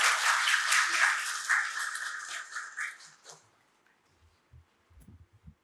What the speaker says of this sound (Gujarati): ખૂબ તાળીઓ પાડી અને આ યુવાનને બિરદાવી.